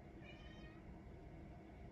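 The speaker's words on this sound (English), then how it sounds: "I think I hear my cat meowing." A domestic cat meows faintly in the distance, a single soft call nearly buried under steady room noise.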